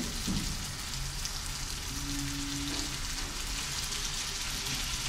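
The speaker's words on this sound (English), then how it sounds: "Okay, so the rice goes in." Rice dropped into a hot frying pan during an international rice cooking demo, giving a steady crackling sizzle with soft spattering, close and fairly quiet, with no talk.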